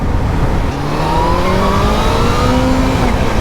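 A supercharged Kawasaki Z H2 motorcycle accelerating hard, its engine note climbing steadily in pitch through the rev range, loud and close over heavy wind rush.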